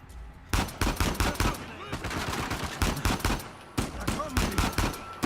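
Rapid bursts of automatic gunfire crackle in the Uncharted 4 video game, dense volleys of sharp shots in clusters with brief gaps, fairly quiet overall.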